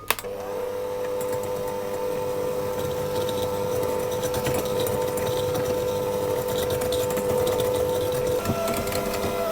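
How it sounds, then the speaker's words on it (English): Sugar and almond extract are creamed together in a bowl for London cheesecakes, a steady, close mechanical whirring drone that holds evenly for several seconds with no voices over it. "the sugar and the almond extract into a bowl. I'm simply going to cream those together."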